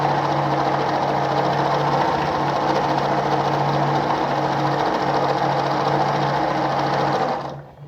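A Pfaff 230 sewing machine running an alternating back-and-forth stitch, a steady fast mechanical chatter with a low hum that runs loud and unbroken for about seven seconds before cutting off, with no talking.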